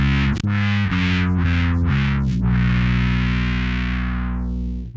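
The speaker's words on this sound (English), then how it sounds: "it's much more of a wah kind of vocal, has a lot more of a vocal characteristic to it" Bass guitar played through a Dunlop Justin Chancellor Cry Baby bass wah pedal, distorted sustained notes swept by a vocal-like wah filter, several quick sweeps then a long held note fading out, loud and alone.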